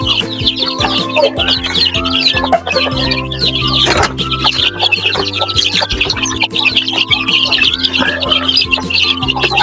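Native Darag chickens cluck and chirp continuously close by, a busy overlapping flock with sharp peeps scattered throughout.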